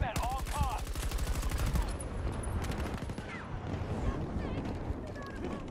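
Battlefield 2042 gunfire crackles in dense, rapid bursts of shots alongside other game effects, loud and sustained through the whole stretch, with no talk.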